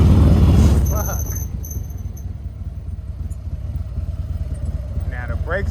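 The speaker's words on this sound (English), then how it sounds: "Now the brakes are squeaking" A 2018 Harley-Davidson Road Glide Special with a cammed engine, left out in the rain for months, gives thin high brake squeals over a loud, close engine rumble, with a sharp squeak near the end.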